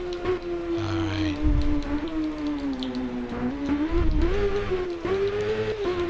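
A BMW S1000RR sport motorcycle with a reflashed ECU, ridden on a race track in South Wales, holds a loud, high engine whine that rises and falls between throttle and gear changes, with wind rumble and buffeting underneath.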